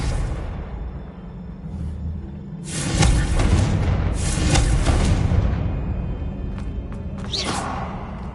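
Confringo spell blasts in the video game Hogwarts Legacy: a few deep booming explosions with whooshing bursts over steady low game rumble, loud and close, with no one speaking.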